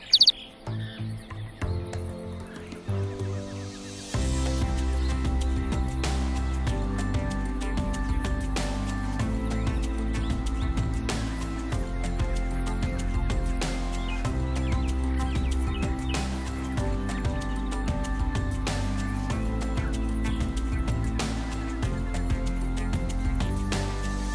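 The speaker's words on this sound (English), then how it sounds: "Different animals and especially birds make the forest sing." Birds chirp and sing steadily in a forest, several calls overlapping with bright tweets over a constant background hum, no voices.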